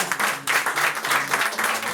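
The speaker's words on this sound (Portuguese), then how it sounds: "As palmas louvam ao Senhor Jesus Cristo." Church congregation clapping together in a rhythmic, pulsing burst of applause, fairly close and moderately loud, with faint voices mixed underneath.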